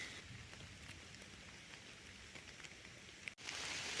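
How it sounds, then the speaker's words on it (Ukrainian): Steady heavy rain patters densely on leaves and ground in a forest, a constant soft hiss with scattered drops, swelling louder at the very end. "дощик уже дуже сильний починається"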